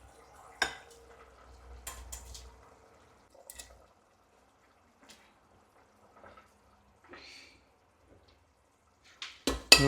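Boiled eggs go into a pan of egg curry, giving faint, sparse clinks and scrapes of a utensil against the pan, separated by near-silent pauses, with a louder clatter at the end.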